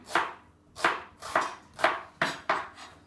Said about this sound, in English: We've then got a couple of onions, okay, which we're just going to slice those up.